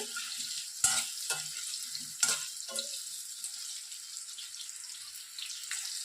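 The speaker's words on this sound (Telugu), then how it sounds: "అందుకే కొద్దిగా బ్యాచెస్ లాగా వేసుకొని ఫ్రై చేసుకుందామని ఇందులో సగం వేసాను" Boiled cauliflower pieces fry in a small amount of oil, a steady hiss running throughout with a few sharp clicks and scrapes near the start.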